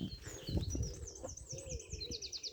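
Hens at a backyard run, faint soft chirps and warbling calls over light scratching and pecking taps on the ground, quiet and close with no talking.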